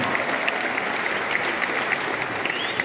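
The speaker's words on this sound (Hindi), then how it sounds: "जोरदार तालियां होनी चाहिए" A large crowd breaks into loud applause at a motivational success-story gathering, a dense and sustained clatter of many hands at an even level throughout.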